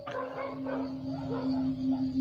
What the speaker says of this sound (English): what the dog doing in the background?